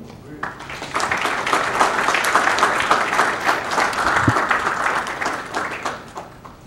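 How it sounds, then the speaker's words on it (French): Audience applause at a French-language ceremony, a dense crowd clapping that rises quickly and holds steady and fairly loud for several seconds before tapering off, with faint voices mixed in. "je demande à l'assistance de bien vouloir m'accompagner dans mes remerciements à leur égard par de chauds applaudissements"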